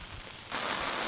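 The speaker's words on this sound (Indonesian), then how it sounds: "hujannya tambah gede" Rain at a campground in Indonesia swells suddenly from a light patter into a dense, loud hiss of heavy rainfall, close and steady, with no talking.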